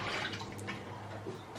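Water running steadily into a pan or bowl for soaking cut potatoes in a kitchen, a continuous close splashing rush without pauses.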